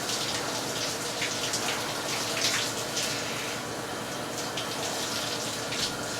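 Hot shower water runs steadily over a leather catcher's mitt, a loud, continuous hissing spray with no voices.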